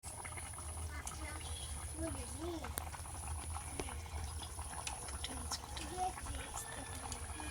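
Bengali magur fish curry simmering in a pan after fried fish pieces are added, a steady low bubbling and boiling hiss with faint kitchen noise throughout.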